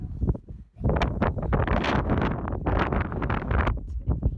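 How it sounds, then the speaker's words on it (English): Strong gusts of wind on a hilltop buffet the microphone in loud, roaring bursts, with brief lulls between them. "It's very windy"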